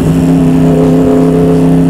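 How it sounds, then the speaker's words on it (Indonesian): A modified Yamaha R1 motorcycle engine roars loud and close, holding a steady, sustained high-revving drone for the whole brief moment with no talk over it. "Oke, gas. Waktunya ngegas"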